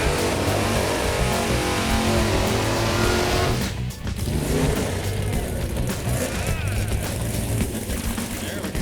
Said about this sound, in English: The burnouts never lie on pastime, so let's give a little watch and listen.